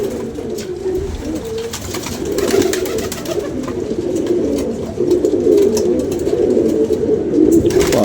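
Pigeon cooing near a home, a steady run of low, throaty coos repeating over the full stretch at close range with no talk.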